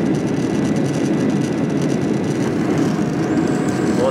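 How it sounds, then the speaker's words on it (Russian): Steady, loud cabin roar of a passenger airliner climbing out over Tokyo as its flaps are retracted, a dense continuous engine and airflow drone with no voices. "Вот закрылки убирают."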